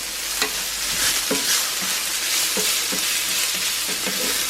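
Store-bought home fries sizzle steadily in a hot cast iron pan while a spatula scrapes and stirs them in short repeated strokes, close up with no talking.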